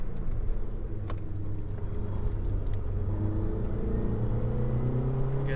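A stock VW Polo GTI fitted with AR1 tyres accelerates through its gears, a steady near engine drone climbing in pitch with a steady rumble beneath and no talk.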